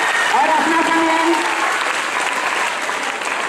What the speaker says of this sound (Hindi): जोरदार तालियां असना शमीम के लिए